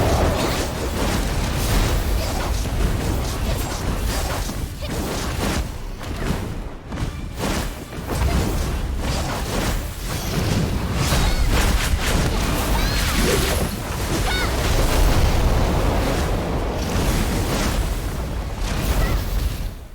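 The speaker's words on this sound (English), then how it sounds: "The next attack is a broad swipe doing moderate amounts of AoE damage to all enemies in front of it" Heavy, continuous combat din from a raid boss fight in MIR4, with the boss's broad swiping area attack landing among dense, loud booming impacts and thuds that run without a break.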